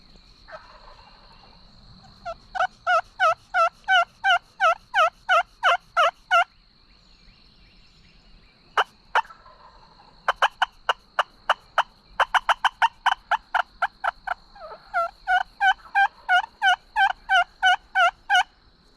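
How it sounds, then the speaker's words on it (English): A wild turkey in North Carolina calls from the roost in the open air, with loud, repeated rapid bursts of gobbles broken by short pauses, heard clearly with no talk. "they're gobbling their head off like that on the roost"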